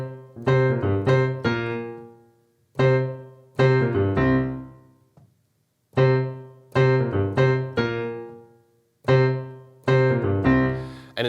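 Piano vamp of the B section of a song, a short repeating loop of chords and a few notes in syncopated bursts with brief pauses between phrases, clear and close with no talking.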